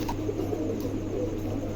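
A pair of pigeons coos softly and steadily for a moment, a low murmuring call with no talk over it.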